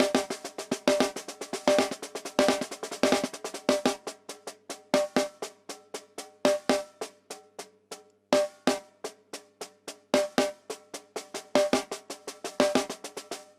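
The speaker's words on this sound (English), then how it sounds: "here is the six stroke. It sounds like this." A snare drum plays the six-stroke rudiment in repeated quick six-note figures, bursts of crisp strokes with louder accents, looping steadily and close, no voices.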